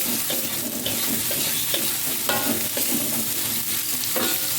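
Green and red large chilies with red bird's eye chilies sautéing in a pan, a busy continuous sizzle with scraping stirs and clinks of a utensil, close and fairly loud, no talking.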